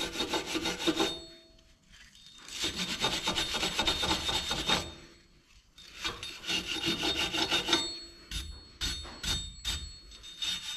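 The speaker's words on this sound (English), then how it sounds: "Just give it a bit of a wire brush so there's no rust" A wire brush scrubs rust off a car brake part on a Mitsubishi Outlander in rough back-and-forth bursts, with two long strokes and then quicker, choppier scrubbing, loud and close.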